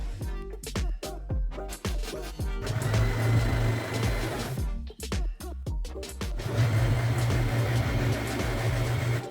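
A sewing machine stitches along the long edges of a handbag made from old denim jeans, its motor running in two sustained loud bursts with a steady hum, separated by short rhythmic stops and starts.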